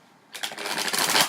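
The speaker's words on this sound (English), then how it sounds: "So I'm just going to shuffle" A deck of tarot cards is shuffled close up: after a brief quiet start, a quick flurry of crisp riffling clicks swells louder and continues to the end.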